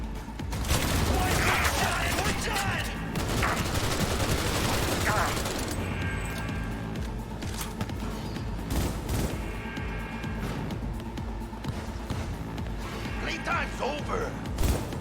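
Gunfire in the shooter game Cyberpunk 2077, loud rapid shots and bursts with clanking mechanical effects and impacts, sporadic through the stretch, with voices talking over the action.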